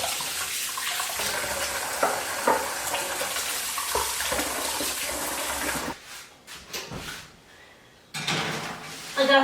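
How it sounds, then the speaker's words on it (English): Tap water running into a sink while hands are washed, a steady close splashing stream that cuts off briefly, followed by faint clatter before the water runs again. "now I'm just going to throw this in the garbage and wash my hands"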